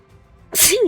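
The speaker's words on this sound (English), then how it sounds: "look at his sneeze finally" A single sharp sneeze bursts out close by after a brief quiet moment, with a short voiced squeak trailing off at the end.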